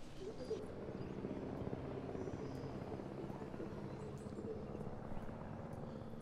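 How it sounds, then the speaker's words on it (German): A helicopter in the Jurassic World Evolution video game gives a steady, continuous rotor drone with a low pulsing throb, holding at moderate volume throughout with no speech. "Ich sehe Helikopter, verkauf den."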